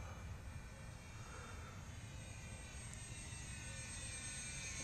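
An Airfield Sky Trainer 182 RC plane cruises overhead at a steady, fairly quick pace, its electric motor giving off a continuous whine that holds even throughout, with no speech.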